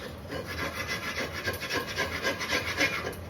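A utensil scrapes burnt, sugary sausage residue off a frying pan in a series of quick, rhythmic rasping strokes, close and fairly quiet, with no talking.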